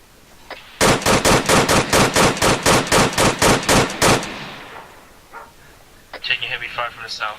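Sustained automatic gunfire in ARMA 3 comes as a loud, rapid string of about sixteen evenly spaced shots, followed by a fading echo and then faint radio chatter.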